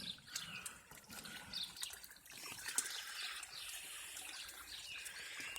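Old water trickles out through holes and back into a backyard crawfish pond, a soft continuous running under chirping birds outdoors.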